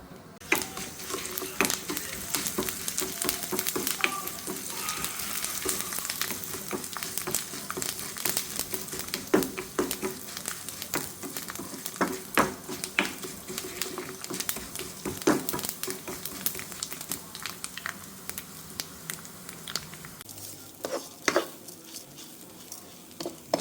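Mustard seeds, rice, crushed chili and curry leaves fry in a pan, giving a soft, sustained sizzle broken by quiet pops, crackles and occasional stirring scrapes, with no talking.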